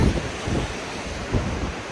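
Ocean waves and wind at a seaside holiday spot make a loud, continuous roar with gusty swells and rumbling surges. No voices.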